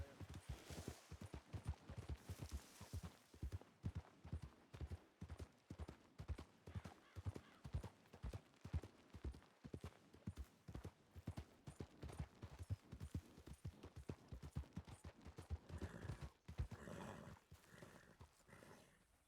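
Steady clip-clop of horse hooves, loud and close, striking in a brisk regular rhythm that runs throughout, with a brief rustle and shift near the end.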